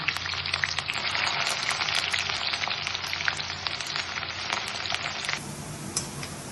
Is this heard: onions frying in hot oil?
yes